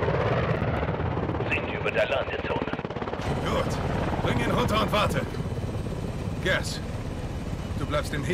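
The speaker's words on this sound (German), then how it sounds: "Heli zur Überwachung." Helicopter in the video game Call of Duty: Modern Warfare II, a steady rotor and engine drone throughout, with brief gunfire-like bursts and game voices talking over it.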